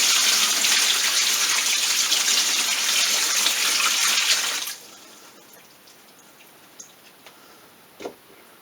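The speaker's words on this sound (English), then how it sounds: "Now I'll just add a little bit of this water from the pond." Pond water is poured onto potted tomato plants being set up for overwintering. There is a steady, loud gushing pour for about five seconds, then it stops, leaving a few scattered drips and small splashes in quiet.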